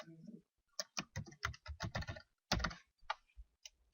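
Rapid keystrokes on a computer keyboard entering a password, a quick irregular run of close, crisp clicks with brief pauses, no talking.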